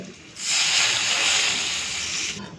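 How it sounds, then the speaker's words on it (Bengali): Water poured into a hot pan of fried fish and eggplant hisses into a loud, steady sizzle that swells at once, holds for about two seconds, then cuts off, close and alone. "এই যে দেখুন মাছ আর বেগুন দুটো ভেজে নিয়েছি, দিচ্ছি এই জলটা, নাহলে আবার পুড়ে যাবে।"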